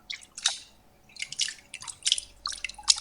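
Water sloshing and splashing in a bathtub, four short bursts spaced about half a second apart, close and fairly clear over a quiet background with no talk.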